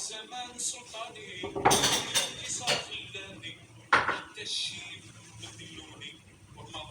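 Dishes and cookware are cleared from a kitchen counter after preparing a rabbit tagine, with clattering pots, plates and cutlery in irregular bursts, one sharp clank midway, and a voice talking between the knocks.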